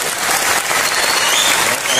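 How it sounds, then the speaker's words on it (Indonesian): A large crowd at an Islamic religious gathering in Blitar claps loudly for a police chief. The dense applause is close and sustained throughout. "tepuk tangan buat Pak Kapolres."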